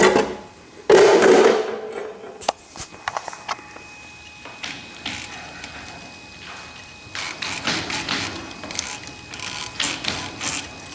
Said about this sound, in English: Motor seems to turn okay.